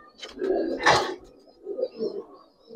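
Giribaz and colored pigeons coo softly, a few low, rounded coos close by with short pauses between them against a quiet background.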